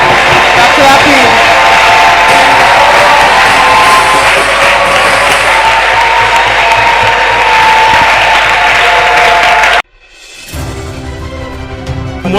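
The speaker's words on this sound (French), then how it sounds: "You're clapping." A church congregation clapping and cheering in a large hall, a steady loud wash of applause with shouts mixed in that cuts off abruptly near the end, followed by quieter sound.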